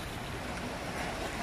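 Sea waves washing around a small fishing boat out on the water, a continuous loud broadband rush with wind buffeting the microphone, no voices.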